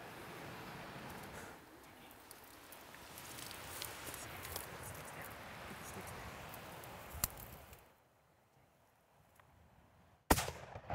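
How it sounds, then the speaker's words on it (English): Rifle shot at an Alaskan bear about 30 yards away, a single sharp crack near the end after a long stretch of wind and rustling outdoor ambience, then a brief hush. "Oh, nice shot."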